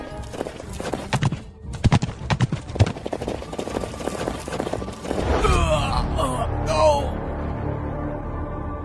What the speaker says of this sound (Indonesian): Aku bilang siapkan kuda.